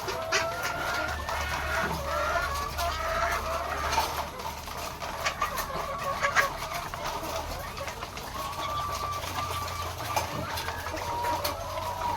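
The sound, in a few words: layer hens clucking, White Leghorn and Rhode Island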